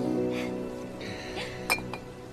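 Drinking glasses clink together in a toast after a festive exchange, with a couple of bright, short clinks near the end above faint background voices and music.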